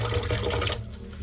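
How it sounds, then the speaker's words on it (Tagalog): Water runs from a home tap in a thin, weak stream, a steady close hiss that trails off and drops lower partway through, with no talk over it. "Sobrang hina ng tubig namin dito."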